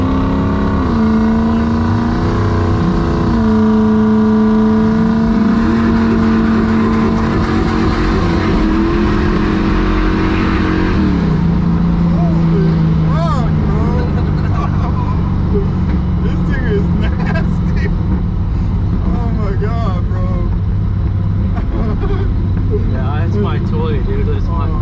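A roughly fifty-year-old Camaro's engine revs hard and loud during a burnout, its note climbing and settling through sustained roaring stretches, with people talking and shouting over it.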